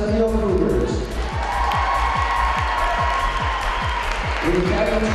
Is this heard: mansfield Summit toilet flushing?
no